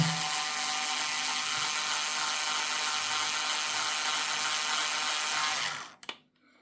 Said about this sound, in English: I use a small motorized bit because it speeds it up